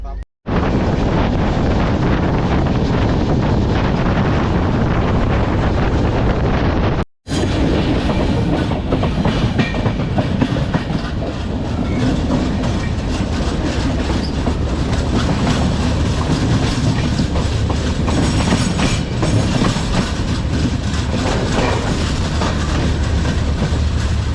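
Bangalore–Agartala Humsafar Express running on rails, with a continuous loud rumble, rattling and clickety-clack of the wagons and heavy wind noise throughout, with a brief cut near the start.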